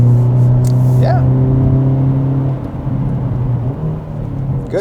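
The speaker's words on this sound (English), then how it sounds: "When you really slam on the brake, it downshifts and crackles and pops." A 2022 Hyundai Elantra N on Michelin PS4S tires in cold weather downshifts under hard braking, its engine note rising and falling steadily from inside the cabin while a person talks over it; individual exhaust pops are hard to pick out.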